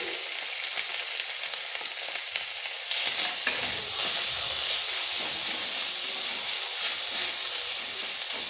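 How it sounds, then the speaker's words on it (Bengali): Garlic tossed into hot oil in a kadai over a very low gas flame gives a close, steady sizzle that jumps louder about three seconds in as it lands and keeps hissing evenly, with no talk. "এবার দিয়ে দিচ্ছি রসুন।"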